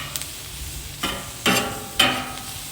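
Fajita vegetables sizzle on a Camp Chef griddle as they are shoveled together, with a steady low fry broken by a few sharp scraping strokes of a spatula, close and moderately loud, no talking.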